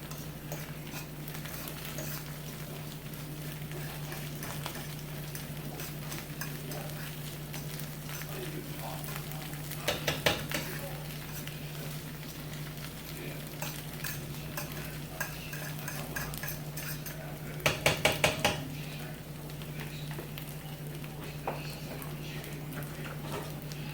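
Eggs are scrambled in a small pan for a Mexican-style breakfast: faint, steady stirring and light scraping over a constant low hum, with a couple of brief bursts of quick tapping clicks.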